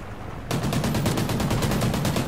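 Long-range gunshot in Call of Duty: Ghosts on the Subzero map: after a brief quiet lead-in, a loud, rapid run of sharp evenly spaced shots fires like an automatic burst and keeps going to the end.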